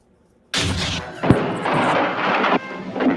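A sudden loud burst of fireworks crackles and booms after a moment of silence, with a sharp bang in the middle of a dense, sustained roar of explosions that fades out near the end.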